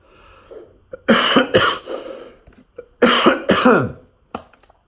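Two bursts of harsh coughing, each a rapid cluster of three or four coughs, close and loud, separated by a brief quiet pause.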